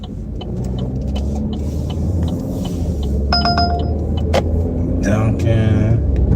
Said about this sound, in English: Let these two cars pass by.